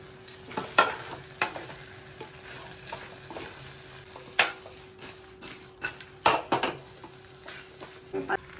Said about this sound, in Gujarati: અને હવે આપણે આ બધી જે ફ્રાઈઝ છે ને એ એમાં મિક્સ કરો.